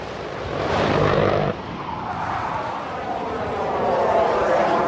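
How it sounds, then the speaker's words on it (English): A loud, steady engine roar of an aircraft passing overhead, broad and rumbling throughout, with a slight shift in tone partway through. "Chaffin and Manimal watch a plane roar overhead."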